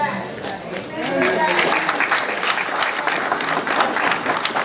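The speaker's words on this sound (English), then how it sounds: "let's hold our applause" An audience at a public comments meeting bursts into applause, dense clapping that swells quickly and holds steady, loud and close, with no clear speech over it.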